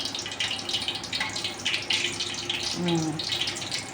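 Liquid, likely milk, poured into a bowl while jackfruit seed balls are being prepared, a steady close splashing stream over a few seconds beneath faint kitchen sounds.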